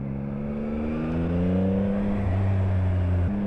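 A 2023 Yamaha XSR 900 motorcycle engine while riding, a steady droning tone that climbs in pitch, drops at a gear change and climbs again, loud and continuous under wind noise.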